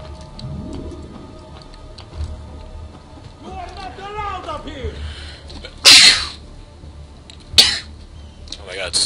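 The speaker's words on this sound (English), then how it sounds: "Didn't mean to sneeze." A sudden loud sneeze bursts out, followed shortly by a second sharp sneeze-like burst, close up over quiet background and faint speech.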